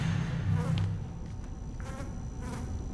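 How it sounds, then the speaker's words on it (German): An insect-like fly buzzing in Batman: Arkham Asylum, in a flooded main water section, with a close wavering drone and faint ambient rumble beneath, no voices. "hier ist irgendwo so eine blöde Fliege"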